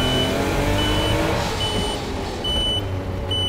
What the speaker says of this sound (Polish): Kierunkowskaz, który przypomina cofającą ciężarówkę.